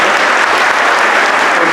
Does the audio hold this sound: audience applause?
yes